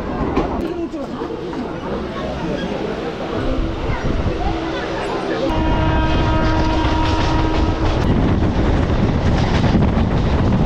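A Krishnanagar City local train at Ranaghat station in West Bengal rumbles and clatters loudly and steadily, its wheel noise swelling partway through, with wind buffeting and voices mixed in.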